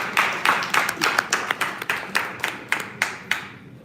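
An audience at a community town hall applauds with a string of quick, fairly regular claps, about a dozen distinct beats from a small group, close and clear, gradually fading at the end.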